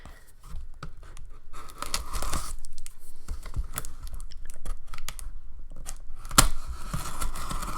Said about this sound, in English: Carefully cut it with the knife